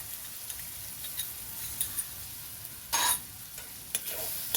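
Potatoes coated in salt, chilli powder and ground cumin are stirred in a hot pan, a soft steady sizzle with scattered spoon taps and one louder scraping stir.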